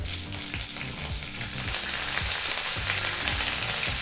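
Chana dal, urad dal and curry leaves frying in hot oil while being stirred, a loud continuous sizzle with repeated low scraping strokes of the spoon.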